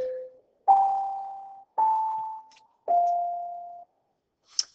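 Bells ring out alone in four clear, sustained tones, each struck note decaying slowly, with a short high chime at the end.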